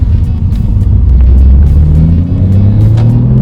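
A Porsche Cayman's 3.4-liter engine with an IPE plenum drones loud and close in a steady low rumble, with the pitch rising and falling slightly as it revs, and no other sounds on top.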